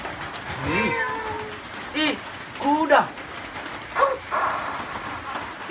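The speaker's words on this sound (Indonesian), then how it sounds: "Ih suara kucing" A cat meows several times in short, wavering calls spaced a second or so apart, fairly close, over a faint hiss of background noise.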